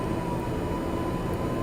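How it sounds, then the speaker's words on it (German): Steady low rumble of a train in the Max Payne video game, a continuous dense roar with a faint tonal hum, close and unbroken throughout, with no talk. "Das ist der Zug."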